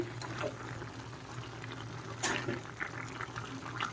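Faint, steady bubbling and light crackle of chicken simmering on low heat in its own released water, with a low hum underneath and no voices.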